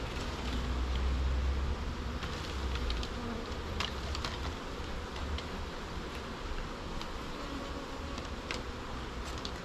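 Steady, dense buzzing from a large honey bee swarm, about a kilogram of bees in a trap, a continuous droning hum with faint clicks and rustles throughout, no voices.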